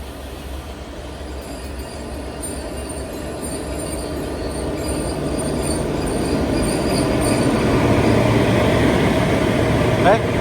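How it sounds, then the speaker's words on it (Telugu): The Kollam–Nagercoil passenger train 56101, hauled by two locomotives in Tamil Nadu, rumbles past in a continuous roar that swells gradually louder, with a brief wheel squeal near the end. "ఈ passenger train number 56101, Kollam Nagercoil passenger"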